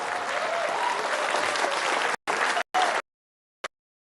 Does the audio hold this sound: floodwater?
no